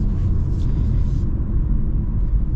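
A Honda HR-V Sport with a CVT and 4-cylinder engine accelerating smoothly, heard from inside as a steady low rumble of engine and road noise.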